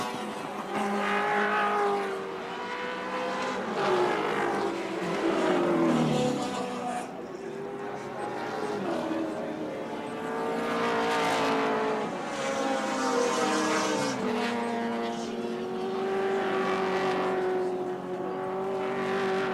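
Touring race cars from the 1984 ATCC round at Wanneroo circuit, led by Dick Johnson and Peter McLeod, crest a rise and dive into a braking area. Their engines howl loudly and continuously, with pitch swells and drops as they rev and downshift.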